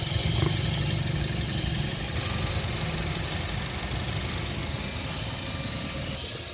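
A 2011 Honda City automatic sits idling with a fresh oil change, its engine humming in a steady, even drone close by, with no talk over it.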